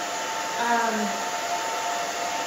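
A hair dryer blows on the back of a woman's short pixie-cut hair, a steady close airflow hiss with a brief pitch shift as it moves, no speech over it.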